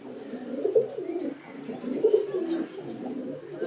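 A female pigeon coos nearby, soft, low, throaty calls repeated in a rolling rhythm.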